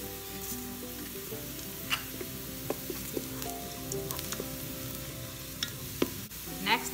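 Cinnamon sticks, green and large cardamom, cloves, peppercorns and cumin fry in oil inside a Ninja Foodi, a faint steady sizzle with scattered soft pops and light stirring.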